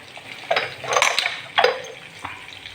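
Mustard seeds and cumin frying in a pan give sharp crackles and pops amid metallic clinks of a spoon against the pan, in a few bursts over a soft sizzle.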